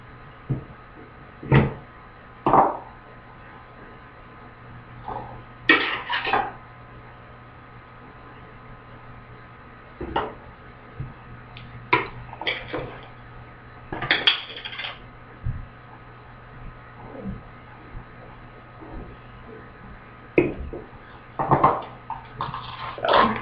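Skincare ingredients for a face and lip routine are stirred together in a small bowl, giving scattered close clinks and scrapes of a utensil against the dish with quiet pauses between bursts.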